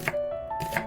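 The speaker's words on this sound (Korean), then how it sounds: "양파를 썰고" Knife chopping onion on a board, two quick close cuts in under a second, fairly soft, with no speech.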